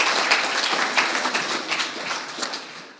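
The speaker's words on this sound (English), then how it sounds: "so we'll give him a round of applause anyway, just in case." Audience at a town hall applauds, a steady crowd of hand claps spread across three seconds, fairly loud and continuous, with no talk over it.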